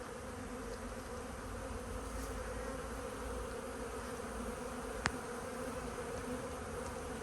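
Honeybees from a strong colony buzz steadily around an open hive during an inspection, a dense continuous drone close to the microphone with one sharp click partway through.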